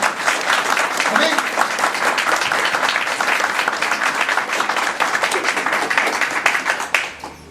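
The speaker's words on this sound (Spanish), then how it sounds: "Dale una ofrenda de aplauso" A church congregation applauds loudly and continuously at a worship service, a dense wash of many hands clapping close by that tapers off at the end.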